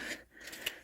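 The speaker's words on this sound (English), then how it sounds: "I'm going to cut that corner off that next one" Two crisp scissor snips as a corner is cut off during a letter 'A' craft project, close and fairly quiet, with a brief scrape between them.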